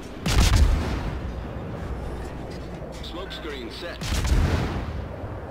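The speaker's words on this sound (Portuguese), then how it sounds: "Olha lá, o cara atirando de HE em mim" Naval HE shells fired at the player's ship in World of Warships: two heavy, rumbling cannon booms a few seconds apart, loud and close, with a low roar sustained between them.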